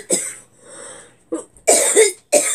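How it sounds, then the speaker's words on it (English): A woman sewing a star quilt coughs repeatedly, close and loud, in several harsh bursts separated by short pauses with some throat clearing between them. "I can't get rid of this cough."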